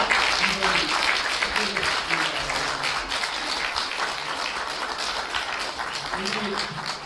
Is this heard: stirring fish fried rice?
no